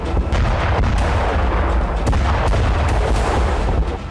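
Missile blasts in the Israeli town of Kiryat Shmona come as a dense, loud roar of rumbling booms with sharp cracks scattered throughout, continuous and heavy.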